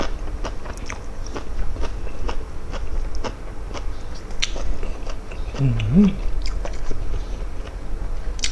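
Crunching and biting on crisp fresh vegetables eaten with frog pon chili dip, close and fairly soft, with a steady run of short chewing clicks and crunches.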